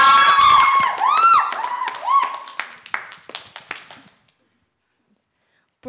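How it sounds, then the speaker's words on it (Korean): An audience at a Korean radio quiz event claps and cheers amid whistles and shouts, loud at first and then thinning out into scattered claps before falling silent. "박수 부탁드립니다."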